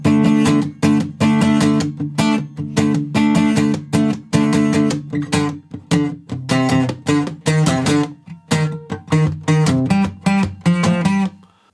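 Electric guitar in standard tuning plays the intro of a piece from God of War Ragnarök, built on power chords such as D5, with loud, rhythmic, sharply stopped strums and short gaps between phrases, alone without speech.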